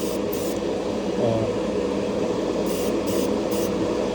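An airbrush gives a steady, close hiss of spray while painting a Gundam model kit; the air stream runs unbroken under faint background hum.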